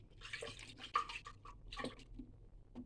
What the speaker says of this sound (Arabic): هنحط كده شويه ميه علشان ايه